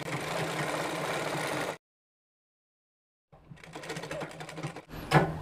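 A sewing machine stitches the crotch piece of palazzo pants with a steady close mechanical whirring, stops abruptly into silence, then runs again in a shorter burst ending with a handling clatter.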